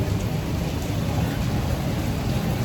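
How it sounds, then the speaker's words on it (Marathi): Heavy rain pours down near a shop, heard as a dense, steady hiss of falling water with a deep rumbling undertone, loud and unbroken throughout with no talking. "चला पाऊस बघा कसं येतं,"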